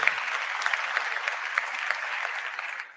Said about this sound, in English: yeah, thanks, you can applaud.